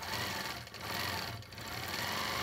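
A sewing machine stitches a quilt along and across seam lines, humming steadily up close with two brief pauses in its running.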